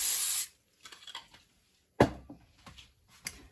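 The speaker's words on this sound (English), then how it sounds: "I'm going to spray it with nonstick cooking spray." A long hissing burst of nonstick cooking spray into a small pan, followed by quieter clatter of handling and a second short spray hiss, close and clear.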